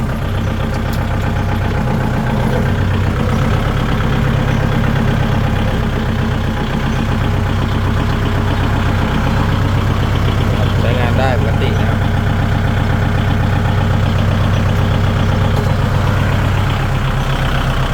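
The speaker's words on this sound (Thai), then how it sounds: "ฟังเสียงเครื่องยนต์" A 2020 Kubota L5018SP diesel tractor engine idles steadily with a low, constant rumble throughout, close by, while someone talks over it.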